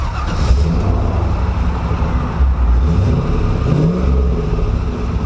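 Mercedes 380SL R107 roadster with a swapped-in LS V8 rumbling loud and close, the engine revving and holding steady as the car pulls away with no talk.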